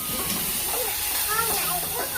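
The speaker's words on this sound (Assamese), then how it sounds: "5 মিনিটমান ধুনীয়াকৈ ৰঙা হৈ যোৱালৈকে আপোনালোকে ভাজি ল'ব" Tamarind frying with amora leaves in a pan gives a steady, even broadband hiss throughout, with a faint voice-like murmur running underneath.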